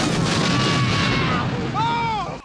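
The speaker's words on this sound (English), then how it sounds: "The explosion severely damages Dreyfus' ear" A loud explosion from the film Curse of the Pink Panther: a dense, sustained blast rumble with debris noise, followed by a wavering high whine like ringing, all close and heavy.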